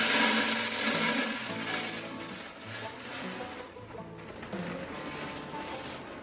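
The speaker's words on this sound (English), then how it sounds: "let's go ahead and fire up our pit boss" Pit Boss pellet grill starting up outdoors, a steady whirring motor and fan roar that holds for several seconds, fairly loud and close, with no talking.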